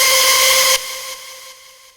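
Wide, bright synth chord with a screaming, distorted tone, a C voiced across several octaves, played dry without any vocoder; loud and sustained alone, stepping down in level as layers drop away.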